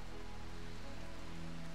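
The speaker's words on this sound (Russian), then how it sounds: "Так, дождь пошел." Rain falls in the video game RimWorld as a quiet, even patter with a faint steady hum beneath it, heard alone without talk.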